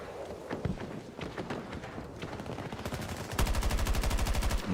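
Rapid automatic fire from an ACR rifle in Battlefield 6 battle royale, scattered shots at first, then a steady fast stream of rounds that grows louder toward the end, with no speech over it.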